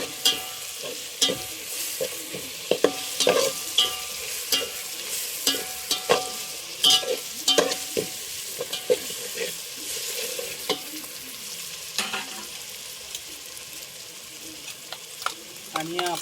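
Chicken biryani masala roasting and sizzling in a pan over a cookstove, with a spoon scraping and stirring in repeated close clinks and scrapes over a steady frying hiss.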